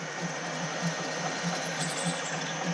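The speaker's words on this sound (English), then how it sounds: "I'm only getting about 2 millimetres at a time before that drill blocks up" A steady whirring drill with a 6 mm bit runs continuously, boring a pilot hole in metal, its motor humming with a faint rhythmic pulse as it grinds slowly, close and fairly loud.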